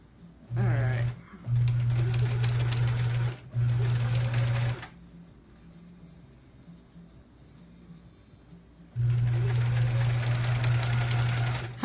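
A sewing machine stitches a quilt block in bursts, three short runs of steady mechanical whirring separated by brief pauses, then a quieter stretch before a final longer run, close and loud with no talking.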